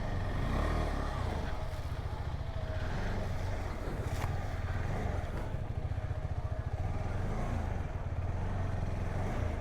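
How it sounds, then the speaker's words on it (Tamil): A motorcycle climbs an off-road hill track, its engine a loud, steady, close throb with rattling and clatter, throttle rising and falling slightly throughout. "இதுதான் நான் என்னோடய வண்டியில் ஃபஸ்ட்டு ஒரு சின்ன ஆஃப் ரோடிங் பண்ணுறேன்"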